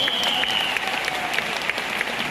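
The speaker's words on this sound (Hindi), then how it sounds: "मैं चाहता हूं पूरे दिल से हमारे सारे ग्रेट अपलाइन के लिए एक जोरदार तालियां।" Loud enthusiastic audience applause at a seminar, continuous dense clapping with distinct individual claps popping through, and a faint sustained tone underneath.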